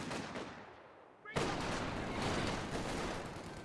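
Heavy gunfire and explosions roar in a World War II strategy game where an MG42 machine gun is in action, a dense, loud barrage that swells after a sudden blast and continues without pause.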